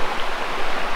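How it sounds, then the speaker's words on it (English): A river near Sedona flows with a steady, broadband rush of water, close and continuous, with no voices over it. "Okay, so we're at the river."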